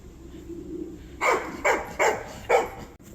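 A dog barks four times in quick succession, fairly close, after a quiet moment with faint background hum.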